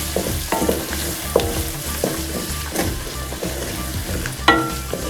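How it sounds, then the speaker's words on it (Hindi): Onions sizzling and crackling in hot oil, with occasional stirring scrapes and clanks, steady and close with no talking. "ये देखिए प्याज हमारा फ्राई हो चुका है"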